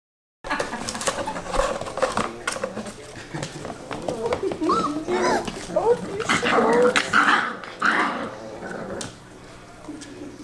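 Several Dalmatian puppies yap and bark in bursts, some close and some farther off, with voices talking in the background.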